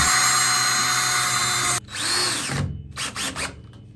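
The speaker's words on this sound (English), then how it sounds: "Drill your hole." A power drill bores a hole for a hinge while a new swinging screen door is installed, running loud and steady for nearly two seconds before cutting off, followed by a few shorter bursts and handling noises.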